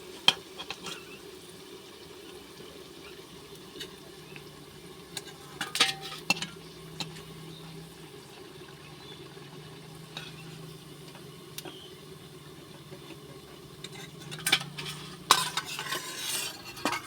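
Jute leaf fritters frying in hot oil, a low continuous sizzle and bubbling hum with occasional spatula scrapes and clinks, fairly quiet and steady, no one speaking.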